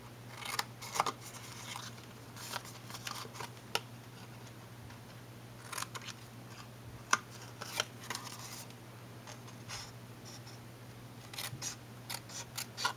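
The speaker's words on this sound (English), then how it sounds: "Snip up that score line." Scissors cut paper along a score line while a small paper box is made, giving a run of sharp, close snips that come in short irregular bursts over a quiet background.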